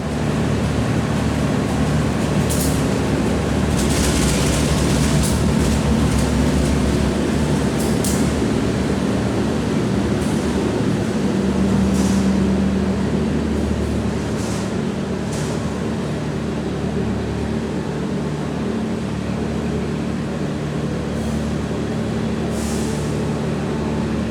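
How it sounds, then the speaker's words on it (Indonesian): Ambarawa Express passenger train pulling into platform 2 at Surabaya Pasar Turi station, a continuous loud low rumble of rolling cars with brief brake hisses and squeals, steady for the whole stretch and heard without speech. "ini rangkaian dari kereta api Ambarawa Express sudah masuk di jalur 2"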